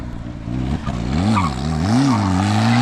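A Nissan S13 drift car revs hard at full throttle while street drifting, its engine note rising and falling in loud, close sweeps, with faint tire noise underneath.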